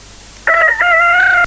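A rooster crows once, loud and close, with a strained, stretched call lasting about a second over faint background hum.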